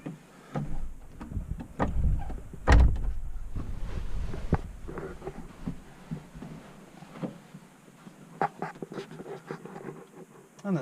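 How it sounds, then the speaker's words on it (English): Doors of a Ford Connect micro campervan being pulled shut, a loud close thump near the start followed by softer knocks and rustling as the interior settles, fairly close. "I'll close the doors."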